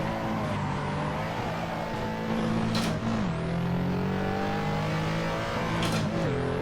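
A car engine drones loudly from inside the cabin on a Nürburgring lap, its pitch sliding down through downshifts and rising again between them, with no talk.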